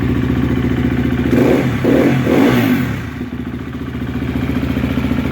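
A 250 or 350 Husqvarna, KTM or Gas Gas dirt bike engine runs steadily after a valve adjustment, with a brief rev in the middle before it settles back to a loud, even idle close by.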